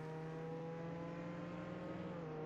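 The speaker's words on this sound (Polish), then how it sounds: "Ale głośno to trochę, to auto." A car engine in the Roblox video game drones at a steady, loud pitch throughout, a continuous even hum with no talking over it.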